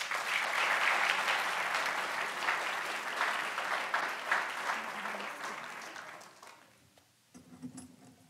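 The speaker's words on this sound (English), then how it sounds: "Let's give our English spellers another round of applause." Applause for elementary school spelling bee winners at a school board meeting, a dense round of clapping from the audience that swells, then thins and fades out over several seconds before a voice returns.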